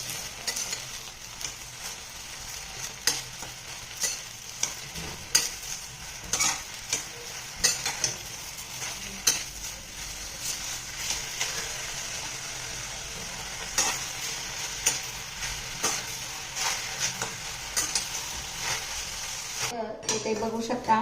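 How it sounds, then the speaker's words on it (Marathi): Ambadi leaves fry and sizzle in a hot kadhai while a spoon stirs them, scraping and clinking against the metal at irregular intervals over a constant close sizzle. "याच्यामध्ये मी ही आंबाड्याची भाजीची पानं जी आहेत ती घालत आहे"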